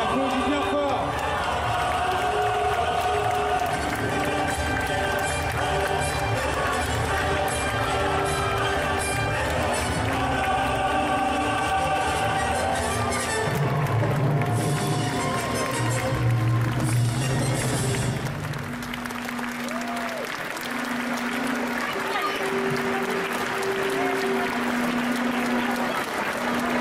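Applause and cheering for a Star Wars cosplay show by Panic Cosplay Rush at Yggdrasil Indoor 2022 mixes with loud music playing throughout, with voices heard in the crowd.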